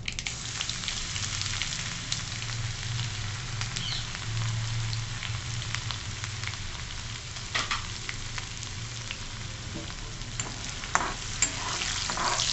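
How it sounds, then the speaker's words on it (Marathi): Ginger garlic paste fries in the hot oil tempering with cumin, mustard seeds and asafoetida, a steady close sizzle with scraping stirs and occasional louder clinks throughout, no talking. "फोडणी चांगली खमंग करून घ्यायची"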